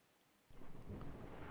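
Sudden roll of thunder from a lightning storm that breaks in after a quiet start and sustains as a deep, loud rumble mixed with rain.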